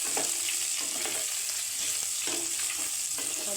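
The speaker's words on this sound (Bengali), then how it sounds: "এবারে আমি আলুগুলো দিয়ে দিলাম। আলুটা দিয়ে একটু ভাজা ভাজা করে নেব।" Potatoes frying in hot oil alongside onions already browned red, a steady close sizzle with a few scrapes of stirring; no one speaks.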